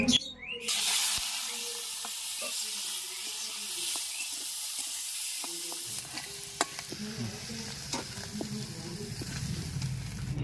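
Prawns tossed into hot oil with salt and turmeric in a kadai sizzle loudly and steadily, with a burst as they hit the oil near the start and scattered spatula scrapes and clinks through the close frying hiss.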